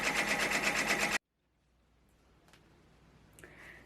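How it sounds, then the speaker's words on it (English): A sewing machine stitches the quilting on a large composition notebook cover, running fast and rhythmic and loud up close for about a second before cutting off to near silence. "now it is in the process of stitching the quilting part"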